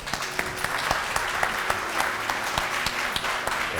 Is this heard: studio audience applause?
yes